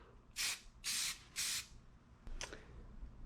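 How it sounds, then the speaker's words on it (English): Three quick hissing spurts of spray paint onto a tumbler in a row, then a shorter, softer burst after a pause, with no one talking. "My spray can went a little wild, okay?"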